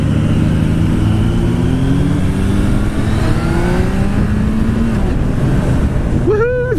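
A 2016 Suzuki Bandit motorcycle accelerates hard, its engine note rising in pitch through the gears under heavy wind rush, loud and close, ending with an excited voice.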